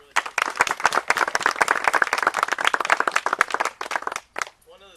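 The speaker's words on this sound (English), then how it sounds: "Big round of applause." An audience breaks into a big round of applause: dense, rapid, close clapping sustained for several seconds, then tapering off to a few scattered claps as a voice begins at the very end.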